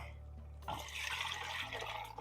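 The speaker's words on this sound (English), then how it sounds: "Now we're going to add that stock" Stock for a fish stew pours into a pot with a sudden gushing, splashing rush that starts after a brief pause and carries on steadily to the end, close and moderately loud, with no talking.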